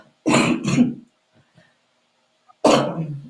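Two sharp coughs close together, a pause of near silence with a faint rustle, then another harsh cough, all loud and close.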